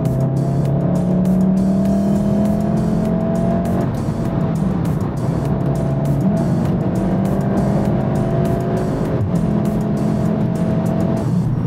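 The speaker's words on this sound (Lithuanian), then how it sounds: "Važiuoja ir renka greitį." A lowered Volkswagen Golf 7 R with a turbocharged engine accelerates hard, its steady, loud engine note climbing through the gears with shifts between rising pitch sweeps.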